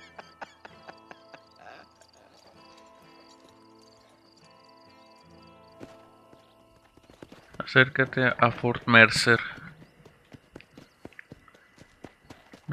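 Horse hooves in the Red Dead Redemption video game, faint scattered steps at first, then a loud, rapid run of rhythmic clip-clop beats that fades back to sparse hoofbeats, with speech heard in the clip.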